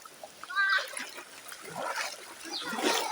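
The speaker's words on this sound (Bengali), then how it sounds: "হাঁটু সমান পানি আমাদের রাস্তা।" Someone wading through knee-deep floodwater on a road near Chauddagram, Cumilla, with close, repeated splashing and sloshing strides at an uneven pace and faint voices in the background.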